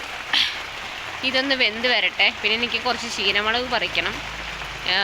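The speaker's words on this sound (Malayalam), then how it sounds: "പുറത്ത് നല്ല മഴയാണ് കേട്ടോ" Heavy rain patters steadily outside a house while a person speaks close by indoors, the downpour continuing underneath the talk.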